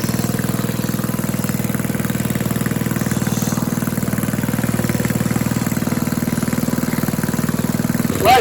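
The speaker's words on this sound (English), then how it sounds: "Right, so again, I'm gonna let it run out of fuel. And she's done." A snowblower engine idles close by with a steady, even thumping putter for several seconds, then sputters and dies abruptly as it runs out of fuel.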